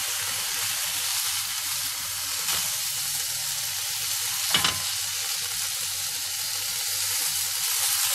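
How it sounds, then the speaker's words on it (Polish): Bacon strips crackle and sizzle steadily in a frying pan, a continuous bright spatter with one sharper pop midway and no voices present. "Boczek podsmażam z obu stron i czekam, aż zacznie się wytapiać."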